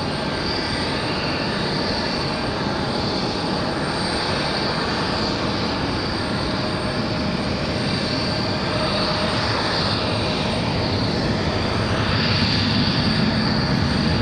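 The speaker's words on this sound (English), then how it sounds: "This one here, NetJets, coming in from Oak Island." A NetJets jet coming in to land at Raleigh Durham International Airport after a short flight from Oak Island: a loud, steady broadband roar that holds throughout and swells slightly near the end, with no voices.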